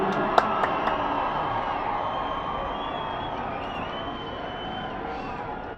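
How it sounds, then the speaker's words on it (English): A crowd at a Division II high school football Super Bowl, King Philip vs North Andover, applauds and cheers steadily, a distant wash of clapping and voices throughout. "How about one great round of applause for both of these teams and schools?"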